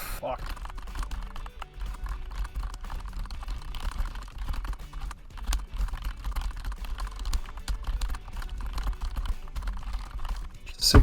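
Rapid keystrokes clatter on a computer keyboard during a typing speed test, a continuous close run of clicks with someone talking over them.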